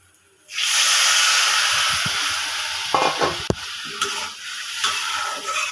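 Spices are stirred in a hot frying pan for a drumstick and potato curry, a loud steady sizzle with scraping spatula strokes near the pan.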